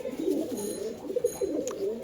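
Pigeons at a seller's place in Beldanga, Murshidabad coo softly and repeatedly, several birds close together in a low, rolling murmur.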